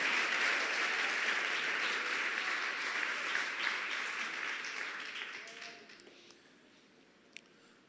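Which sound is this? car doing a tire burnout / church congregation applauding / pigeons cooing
church congregation applauding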